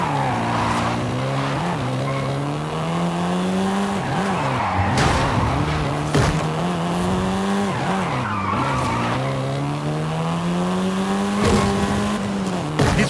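A seventh-generation Volkswagen Golf R in Forza Horizon 5 revs up and down with loud, sustained tire squeal as it skids through corners.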